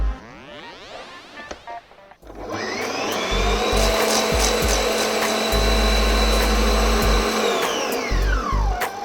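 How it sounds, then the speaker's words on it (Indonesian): An electric mixer beats cake batter for a marble cake at high speed, a loud, steady, close whine that starts after a brief clattering lead-in, holds at full speed, then winds down at the end. "Aduk lagi dengan speed tinggi."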